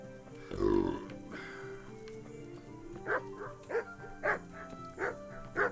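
Dog barking in the video game Kingdom Come: one loud close bark, then a run of five sharper, evenly spaced barks, with game ambience underneath.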